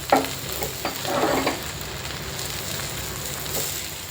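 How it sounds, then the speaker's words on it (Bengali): Ghee-fried rajma being stirred into rajma polao in a pan gives a moderate, steady sizzle with several scraping bursts as the spoon moves through the rice. "ঘিয়ে ভেজে রাখা রাজমাগুলো আমি দিয়ে দিচ্ছি এবং ভালোভাবে করে নেড়ে নিচ্ছি"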